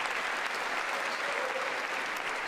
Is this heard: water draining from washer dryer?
no